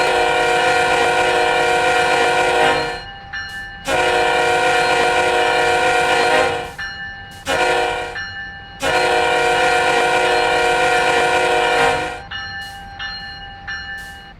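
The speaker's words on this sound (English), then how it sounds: "the ES44AC's horn and prime mover barely sounding like the real thing" Simulated ES44AC diesel locomotive in Train Sim World 6 on Horseshoe Curve, sounding four long blasts of its chime horn over the steady drone of the prime mover, with the rumbling engine left alone between blasts.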